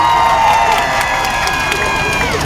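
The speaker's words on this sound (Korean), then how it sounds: "박수 부탁드립니다" A crowd at a student rally against revoking autonomous private high school status in Seoul cheers and applauds in a loud, sustained wash. Whoops and high shouts carry over the clapping.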